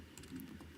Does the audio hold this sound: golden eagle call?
no